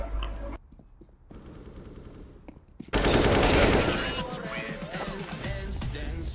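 Rapid automatic gunfire in the CS:GO video game, a loud sustained burst of shots after a quieter lead-in of softer game sounds, with voices in the background.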